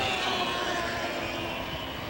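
A racing powerboat engine roars on the Grand River at a 1994 Dunnville race, making a steady, dense drone that holds at an even loudness throughout.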